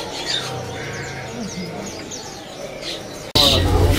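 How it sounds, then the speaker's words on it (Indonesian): Javan mynas chirp and call at a bird seller's kiosk in a market, scattered bright tweets and whistles over busy background noise, with a louder burst of calls near the end. "Nah, ini ada burung jala kebo ya, teman-teman ya"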